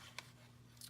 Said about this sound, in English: Cut it off.